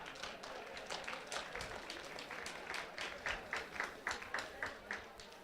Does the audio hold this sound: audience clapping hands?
yes